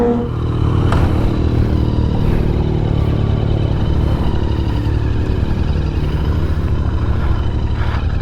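A Royal Enfield Continental GT 650 motorcycle rides downhill, its engine droning steadily and loudly close by with wind rush and occasional clatter, and no talking.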